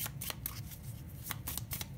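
A deck of tarot-style cards is shuffled in quick riffling bursts, soft and close, with no talking.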